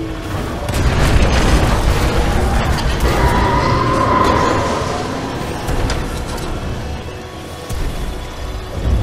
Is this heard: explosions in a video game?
yes